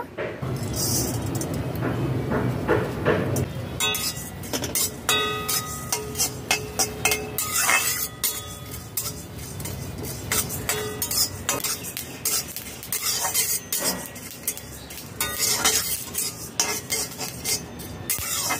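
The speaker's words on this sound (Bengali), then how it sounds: "গোটা জিরা 1 চা চামচ দিলাম। শুকনো খোলায় ভেজে গুঁড়ো করে নেব।" Fennel and whole cumin seeds dry-roasting in a pan while being stirred, with scraping and clinking of a utensil against metal over a faint crackle, close and continuous with no talk.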